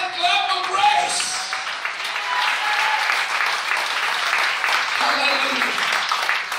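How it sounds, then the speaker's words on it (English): Congregation in a church service gives a sustained round of applause, a hand clap of praise, dense and steady throughout, with a few voices calling out over it near the start. "Can we give a hand clap of praise?"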